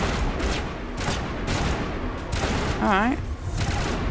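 Heavy, continuous gunfire in the video game Mass Effect rattles loudly throughout, with a brief spoken word over it.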